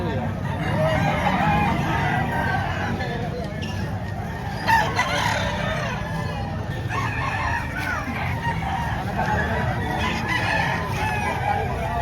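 A rooster crows while chickens cluck steadily nearby at a poultry market in Padre Garcia, Batangas, a busy, loud barnyard din with people talking underneath.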